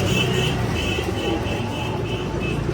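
A Girbaz pigeon, a long-flying breed kept in a pigeon shop, coos in repeated soft rhythmic phrases close by over a dense, noisy background.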